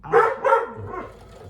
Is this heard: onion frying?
no